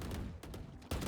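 Bursts of rapid gunfire from the Valorant video game sound in quick succession, a fairly quiet rattling fusillade with a short gap before a final burst.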